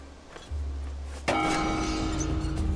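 A gong in the video game Song of Nunu: League of Legends is struck once and rings out loud and sustained, its bright metallic tone lingering over a low hum.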